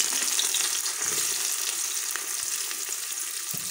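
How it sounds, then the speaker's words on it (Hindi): Onion frying in a pan for moong dal khichdi, a steady close crackling sizzle with faint stirring clicks, continuous and alone without talk. "अब यहीं पर हम डालेंगे प्याज।"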